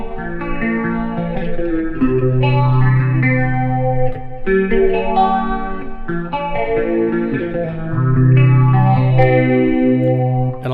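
An EVH Wolfgang Special electric guitar, made in Japan, picked near the bridge through a chorus effect that gives it a buzzy, sitar-like shimmer; sustained notes and phrases ring out loud and close with no talk.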